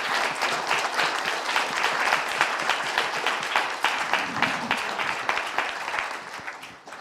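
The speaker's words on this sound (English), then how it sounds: "I want to give a huge round of applause to all the folks that have helped pull this together" A conference audience in a plenary room applauds steadily for several seconds, a dense even clatter of many hands that tapers slightly at the end.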